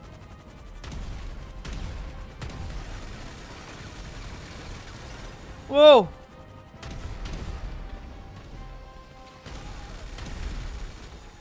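Gunfire in GTA 5 during an alien invasion of Los Santos: scattered bursts of shots, some sharp and close, others duller, spread across the scene, with a man's loud exclamation in the middle.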